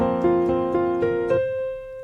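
Piano plays a worship-style pattern with left and right hands together, about five evenly spaced chords struck in a steady rhythm, with the last one left to ring out and decay, close and clear with no talking.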